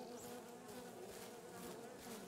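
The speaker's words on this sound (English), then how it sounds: "Sounds like bees." A dense swarm of bees buzzes steadily in the horror video game Siren Head Resurrection, a low continuous droning hum at moderate distance with no talking.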